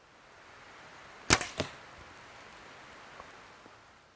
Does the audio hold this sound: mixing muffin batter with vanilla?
no